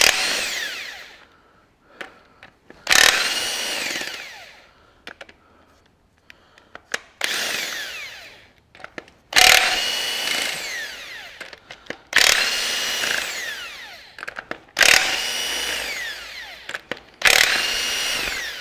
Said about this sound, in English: a BTW 450 Makita, and she seems to have a bit of go, this old 1/2 inch drive one